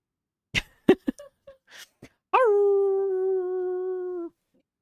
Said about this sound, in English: Just endless howling.